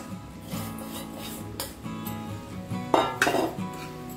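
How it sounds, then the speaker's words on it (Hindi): Sabudana mix with spices tipped into a pan of lightly fried potatoes and stirred, giving soft scraping and a few metallic clinks of a spoon against the pan that grow busier toward the end. "तो अब डाल देंगे हम ये हमारा साबूदाना मिक्स, जिसमें कि हमने मसाले वगैरह सब डाले हुए हैं।"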